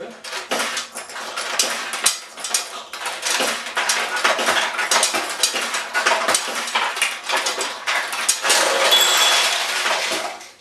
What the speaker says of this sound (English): The ball will drop all the way down and exit through this hole and go down into either your bucket in the back of the machine